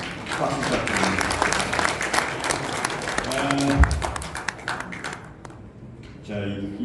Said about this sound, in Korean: 좋은 말씀 해주신 세 분께 다시 한번 박수 부탁드립니다.